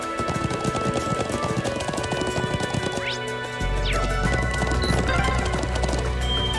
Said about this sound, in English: I've missed riding a horse across the Highlands.